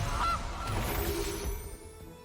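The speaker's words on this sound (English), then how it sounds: "Gilded Goose." A short, close goose honk plays as a sound effect for the Gilded Goose card in a digital card game, a single brassy call over a hissy, buzzy background that fades out.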